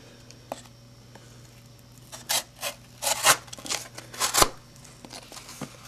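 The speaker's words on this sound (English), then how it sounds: "Okay, let's cut some cardboard." A Case Yellow CV pen knife slicing through cardboard, giving several short scraping, tearing strokes that cluster in the middle of the stretch, close and fairly quiet, with no talking.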